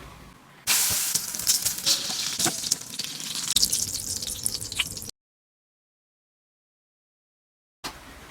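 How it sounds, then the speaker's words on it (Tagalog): Eggplant omelette (tortang talong) frying in a pan, a bright crackling sizzle starting abruptly and running loud and close for several seconds, then cutting to silence before a short return. "Magpiprito na tayo."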